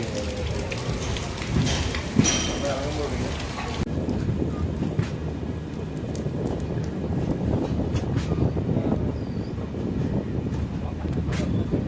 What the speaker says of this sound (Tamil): இப்போ திருவனந்தபுரத்தில் மழை பெஞ்சிக்கிட்டு இருக்கு